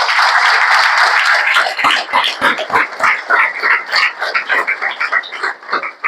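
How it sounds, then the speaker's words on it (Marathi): Applause from an audience at a Shivaji Maharaj Jayanti celebration in Pune: dense, loud clapping that fills the whole stretch, steady at first, then breaking into sharper, uneven bursts toward the end. "एकदा त्यांच्यासाठी टाळ्या वाजवल्या पाहिजे."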